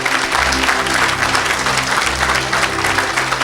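Dense, loud applause from a church congregation fills the whole stretch with steady clapping, with a low musical hum underneath.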